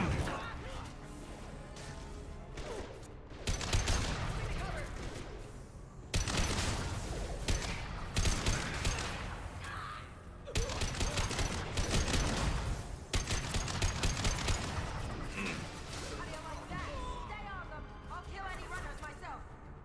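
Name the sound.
gunfire in the video game Mass Effect Legendary Edition 2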